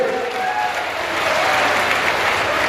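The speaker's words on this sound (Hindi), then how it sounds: "सब ताली बजाओ बाबा के लिए।" Sustained applause from a large crowd at an outdoor political rally, steady and dense throughout with faint voices mixed into the clapping.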